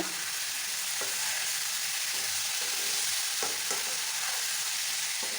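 Chili and ginger paste with salt sizzles steadily in a pan while a spatula stirs it, giving a constant frying hiss broken by occasional scraping taps of the utensil against the pan, close up and with no talking.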